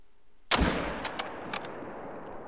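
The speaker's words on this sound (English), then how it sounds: "Oh, I think I messed up that heart shot." A single loud, close rifle shot fired at a caribou while hunting in the Yukon valley cracks out suddenly and then echoes away in several fainter rolling reports.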